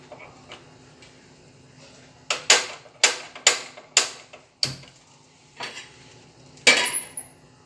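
A pan set down in a home kitchen while bread is warmed for children, followed by a quick run of about eight sharp metallic clinks and clatters of cutlery and dishes over a quiet background.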